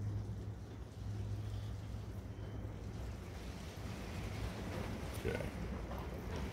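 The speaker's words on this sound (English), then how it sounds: "That's the wind out there blowing, y'all." Wind blowing outside a shop, a steady low rushing and buffeting that runs the whole way through, with one short word spoken over it.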